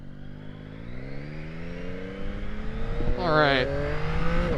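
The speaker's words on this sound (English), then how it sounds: "that was barely any throttle on that, and we got up to speed pretty quick" A 2021 Yamaha MT-09 motorcycle pulls away on light throttle, its engine note climbing steadily and loudly with a brief shift midway, and a rider speaks a short word over the rising whine.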